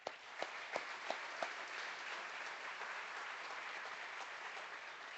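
An audience at a city State of the City event gives a few scattered claps, then settles into sustained applause that fills the room evenly at a moderate distance.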